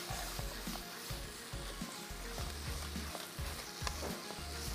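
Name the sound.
carrots frying in a pan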